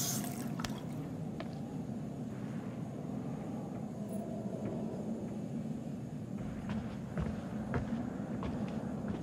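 Hot water running in a large, fancy chalet in the Until Dawn video game, a steady rushing flow with intermittent drips and squishy pipe clicks throughout, moderately loud and without speech.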